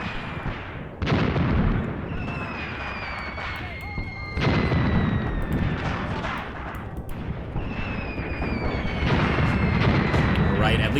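Gunfire and explosions in a World War II video game battle set in North Africa: continuous rumbling booms and artillery fire layered with distant shots, loud and dense throughout with no pauses.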